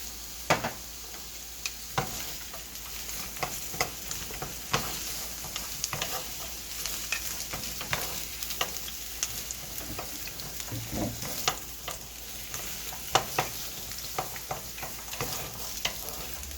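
Carrots stir-fried in a pan for gimbap, a steady close sizzle with frequent scraping and tapping of the utensil against the pan throughout.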